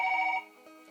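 A telephone rings faintly during a phone call, a short tonal ring burst that fades after under half a second, leaving a soft lingering tone.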